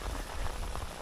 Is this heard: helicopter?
no